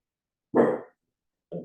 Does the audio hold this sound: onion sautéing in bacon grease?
no